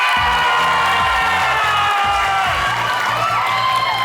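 A Filipino game-show studio audience of P-pop fans cheers and shouts continuously and loudly, a dense wall of high-pitched screaming with a steady rhythmic bass beat underneath.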